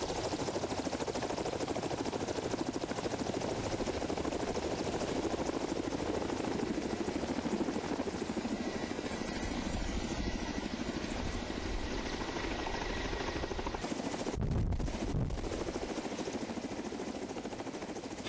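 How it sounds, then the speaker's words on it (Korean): A helicopter flies into the Naeseorak valleys of Seoraksan in late autumn, its rotor and engine a steady, loud, close drone throughout with a brief deeper surge of thump near the end. "헬리콥터를 타고 내설악으로 들어섰다."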